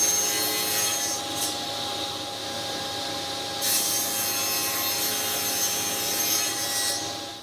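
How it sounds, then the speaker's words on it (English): A saw cuts the baffle of a wooden 1x12 guitar speaker cabinet, giving a steady, loud whine and rasp that runs almost unbroken throughout, surging slightly near the start and midway, with no voices. "now we'll go ahead and get the baffle cut"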